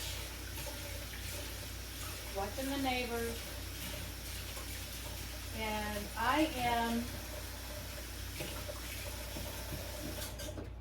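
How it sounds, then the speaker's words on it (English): Tap water runs into a pan at a kitchen sink during tomatillo salsa canning, a soft continuous stream heard faintly beneath a person talking. "getting some water on that pan so it doesn't stick"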